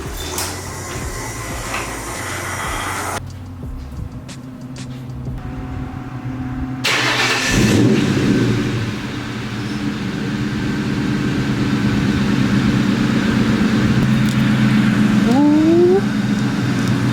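A car door thuds, then a Ford Mustang GT engine cranks and starts with a loud burst, settling into a deep rumbling idle that swells with a couple of revs.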